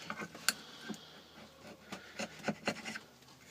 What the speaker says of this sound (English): I'll have to use a chisel for this.